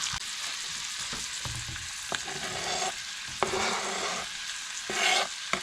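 Chopped onions and jalapeno sizzling in a skillet: a continuous crackling sizzle with occasional sharp scrapes and knocks from stirring, close and fairly loud.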